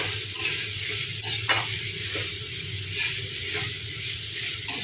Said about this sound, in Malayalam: ഒന്ന് ഇളക്കി കൊടുക്കുക നന്നായിട്ട് ഇതൊന്ന് വഴന്ന് വന്നാൽ മാത്രം മതി